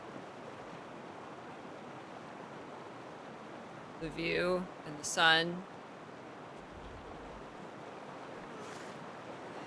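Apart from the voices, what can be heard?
water waves lapping in Guild Wars 2 video game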